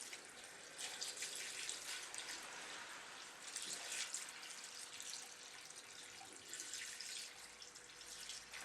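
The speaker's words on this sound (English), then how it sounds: "just want to go ahead and pour some water in there." Water pours steadily from a watering can onto sawdust and paper in a homemade log maker, a soft continuous trickle and splash that stays fairly quiet throughout.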